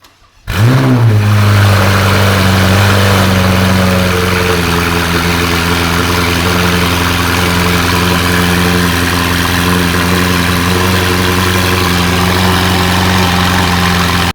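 A Ferrari 488 with a Bowden exhaust starts and settles into a deep, rumbling idle with strong exhaust tone, steady and close for the whole stretch.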